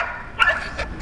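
A dog barks twice over a steady low hum, one sharp bark followed by a softer second bark near the end.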